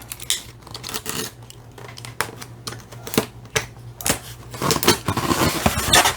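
Scissors snipping through the tape on a mailed package, a series of sharp close cuts and crinkles that grow busier and louder toward the end, with no talking.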